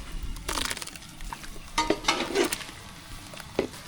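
Cinnamon and cloves fry in hot oil in a pan as raw plantain pieces go in for sambar, giving a close, steady sizzle broken by several sharp stirring and scraping clatters. No one speaks.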